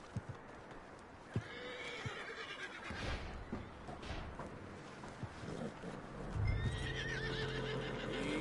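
A horse in Red Dead Redemption 2 whinnies and neighs over hoofbeats clip-clopping along, with a faint rumble in the background and a longer whinny near the end.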